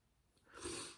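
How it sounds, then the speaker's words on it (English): A single sneeze bursts out midway, a quick breathy intake followed by a loud, bright, sharp expulsion close to the mic, with no talking around it. "I feel a sneeze coming on."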